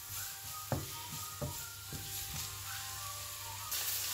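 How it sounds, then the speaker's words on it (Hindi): Carrots and peas fry in a pan with a faint, steady sizzle, broken by a few soft knocks from stirring, quiet and close without talk. "अब इसमें हम जो है मटर और गाजर को थोड़ा सा फ्राई करेंगे ताकि इसका कलर जो है वो चेंज हो जाए।"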